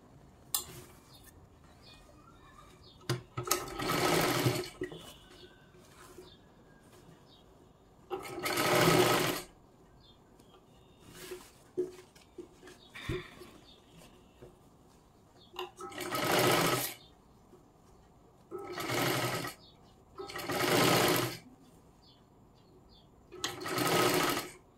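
A sewing machine stitches a princess blouse sleeve in a series of separate short runs, each a rapid whirring burst, close and clear, with quiet pauses and small handling clicks between them.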